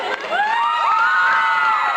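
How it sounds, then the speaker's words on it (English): A stand-up comedy audience cheers loudly, with high whoops and shouts rising over steady crowd noise throughout. "You better give them applause."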